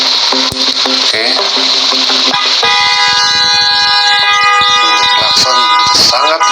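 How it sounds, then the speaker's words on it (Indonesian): Loud car horns blare nonstop in a crowded airport welcome procession, several overlapping long blasts and toots layered over engine rumble and the noise of the crowd. "Klakson sangat luar biasa kencang"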